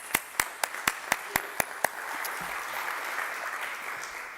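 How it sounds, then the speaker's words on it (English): A few loud, evenly spaced claps start off at a student showcase event, then the rest of the audience joins in. The sound becomes a softer, continuous wash of applause. "Can we just give her a round of applause for that?"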